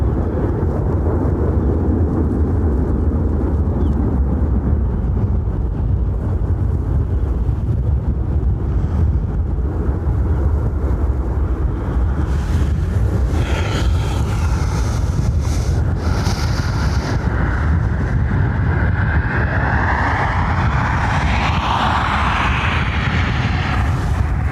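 Steady, loud wind buffeting a microphone outdoors at Dublin Airport, a continuous low rumble that roars on without a break and grows gustier toward the end.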